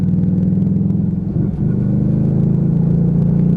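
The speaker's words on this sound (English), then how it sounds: "I tend to roll on the throttle and ease off the front brake as I pull away" A Lexmoto Vendetta motorcycle pulls away as the throttle rolls on, its engine a steady, close, loud low rumble with a brief dip before it settles into an even drone, with no talking.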